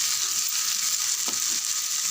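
Vegetables, carrot and beans, sautéing in a pan, giving a steady close hiss of sizzling with a brief stirring scrape near the middle and no voices.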